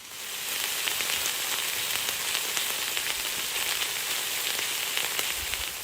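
Meat fries slowly over a campfire outdoors, giving a steady, close crackling sizzle with scattered pops that carries on without a break and with no voices.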